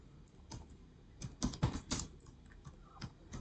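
Quiet clatter of fingers typing on a computer keyboard, an uneven run of soft key clicks that clusters into a quick burst in the middle.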